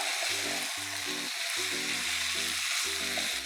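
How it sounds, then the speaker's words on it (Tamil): Grated coconut is stirred and fried with chicken for a Kerala-style dish, giving a loud, constant sizzle. A regular, pulsing low hum plays underneath, and no one speaks. "ஓகே, தேங்காய் சேர்த்து நல்லா கிளறி விட்டுக்கலாம்."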